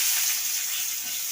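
Chopped onion dropped into hot oil with nigella seeds and dried red chilli gives a loud, bright, continuous sizzle close up, heard alone without voices.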